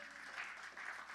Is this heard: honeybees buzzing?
no